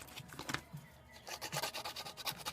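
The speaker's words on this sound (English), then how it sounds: "So you can use a sanding stick. Just going to clean that up." Quick back-and-forth rubbing strokes of a sanding stick on a plastic robot visor, close and quiet, in a steady rhythmic scratch.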